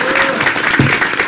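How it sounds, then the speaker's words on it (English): Audience applause in a city council chamber, loud dense clapping from a room of attendees, sustained through the short stretch. "give another round of applause"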